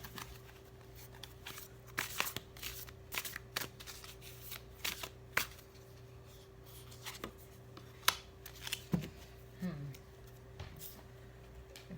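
Cards are shuffled in quiet bursts of riffling and snapping, with soft pauses between, under a low steady hum.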